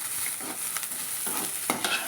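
Okra sizzles in a hot pan with a steady frying hiss while a spoon stirs it in a few scraping strokes.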